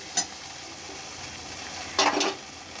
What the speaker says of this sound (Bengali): হলুদ দিয়ে এবার একটু নাড়াচাড়া করে নেব